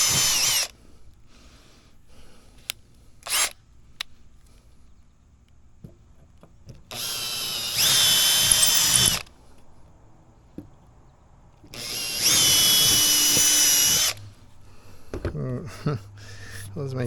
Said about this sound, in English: a big drill bit right out of the bottom.